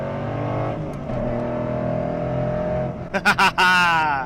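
A 2012 Ford Mustang Boss 302 with the track key on, its engine droning loud and steady before a few sharp bursts and a hard rising rev as it accelerates in traffic, close and prominent.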